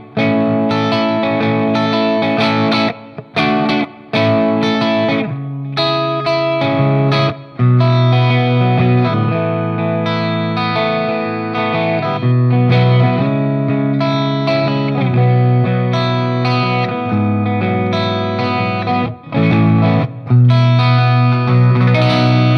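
A Cort KX500 electric guitar with active humbuckers, set to the middle pickup position, plays through a Marshall amp with light overdrive, effects and reverb. The playing is loud and continuous, with chords and riffs and a few brief gaps.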